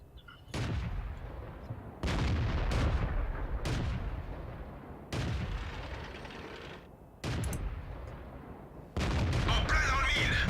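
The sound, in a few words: tank cannon firing in the video game World of Tanks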